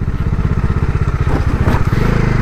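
A motorcycle engine thrums loudly and close in a steady, rapid pulse during a night ride on a rural Konkan road near Velas, with a slight shift in tone near the end.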